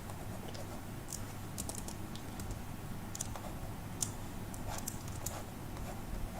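Keys are tapped on a computer keyboard to trigger hotkeys in Clip Studio Paint. The scattered, faint clicks are spread irregularly over a steady background hiss.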